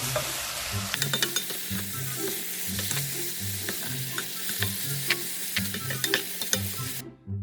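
Pork in red pepper paste being stir-fried in a hot pan, a steady sizzle with repeated scraping and clacking of the utensil against the pan, close and continuous, with no talking.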